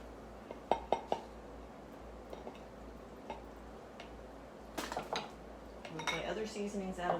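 A mix being whisked with milk in a glass bowl, with scattered clinks and taps of utensils against glass, then faster rhythmic whisking strokes building near the end, close and moderately quiet.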